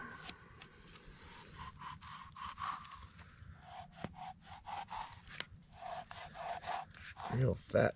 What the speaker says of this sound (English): We're just gonna cut some holes, put some slices in it